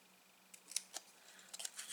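Small crafting scissors snip paper while making a Stampin' Up! tunnel card, a few soft, quick cuts close by in an otherwise quiet room.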